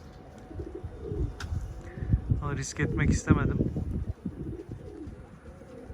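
Pigeons coo in low, repeated bursts close by, with wind buffeting the microphone while someone speaks over them.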